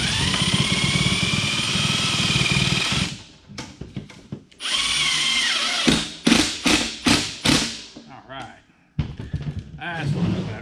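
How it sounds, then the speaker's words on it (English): A power drill drives a screw into metal on a homemade airplane pre-heater, a long loud whir, then a pause and a run of short bursts as the screw seats, ending with a few more quick pulses. "Run a screw through it."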